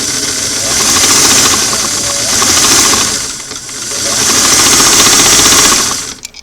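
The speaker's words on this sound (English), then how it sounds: "Then it starts groaning right there. Then it starts sewing real slow." Mechanical groaning from a Singer sewing machine run slowly through a restored clam-shell foot pedal, a steady loud drone swelling and easing in waves with a brief dip midway, no talking.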